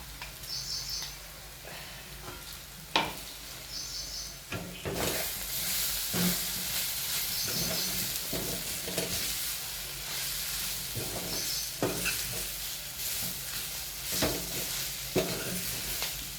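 Paste of ground coriander, cumin, sesame and coarse peanuts stirred in a pan for mirchi kharda, a steady sizzle under repeated scraping stirs, with faint bird calls in the background.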